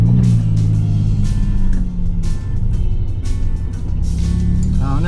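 Ford Bronco Raptor doing donuts in snow, engine droning loud and close with shifting revs and a steady low rumble, plus faint hissing and clatter from the tires.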